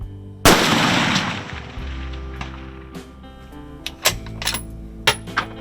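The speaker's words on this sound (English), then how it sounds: "Now I'm gonna shoot 500 yards." A single loud, close rifle shot cracks out and rolls off in a long echo across open ground at a 500-yard target, followed by a few sharp metallic clicks of handling.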